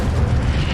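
An Incendio fire spell cast in Hogwarts Legacy, a short, loud, deep burst of rumbling fiery whoosh, brief and close.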